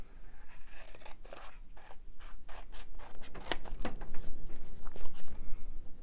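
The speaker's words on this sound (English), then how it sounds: "trim around this first so that I can see where the edges are when I've put the backing on" Scissors snip paper while trimming around craft ephemera, a close series of crisp, irregular cuts and slides in quick succession across the whole stretch.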